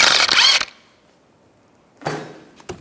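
A scraping metallic clunk as a wheel is pulled off the hub of a 2007–2010 Mini Cooper after the lug bolts come out, followed by a quiet pause and then a second shorter scrape and knock.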